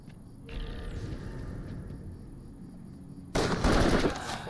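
Rapid automatic gunfire from a VR shooter esports match, a sustained burst of shots with a louder, denser volley near the end, no voices over it.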